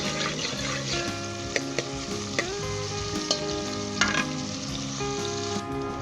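Onions frying in a pan until light golden brown for nargisi kofta curry, a continuous close sizzle broken by occasional sharp clinks of stirring.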